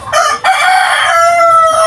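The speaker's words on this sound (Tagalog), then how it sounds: "baka magustuhan nyo yung mga manok" A rooster crows loudly and close up, one long drawn-out call that starts with a short burst and stretches into a sustained cry.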